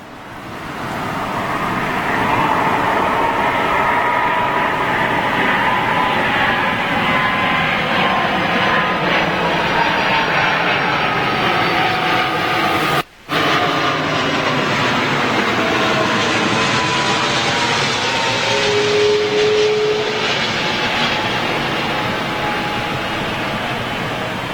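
A jet airliner taxiing at LAX gives a steady, loud broadband engine roar that holds for the whole stretch, with a slowly shifting whine and one brief dropout midway.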